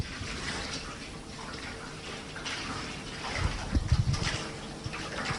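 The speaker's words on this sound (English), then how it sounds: "get some cold water onto it" Cold water poured onto a very hot metal drum, starting as a steady watery hiss and rising into a louder burst of sputtering and bubbling near the end.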